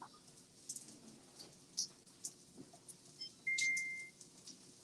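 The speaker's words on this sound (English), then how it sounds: "So my alarm just went on." A kitchen oven timer alarm going off during dinner cooking, a short sustained electronic beep near the end, preceded by faint chirps and light clatter in a quiet kitchen.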